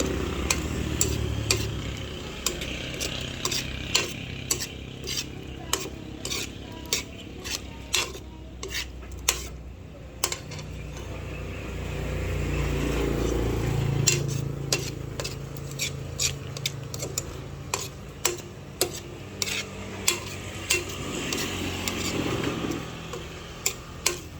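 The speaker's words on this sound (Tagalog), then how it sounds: "Lalagay ko na po itong mga rekado. Akin na po pagsasabay-sabayin. At akin lang pong hahaluin." A spoon stirs adobo ingredients sautéing in a pan, scraping and clinking against the metal in a steady, repeated rhythm over a soft background sizzle, with no talking.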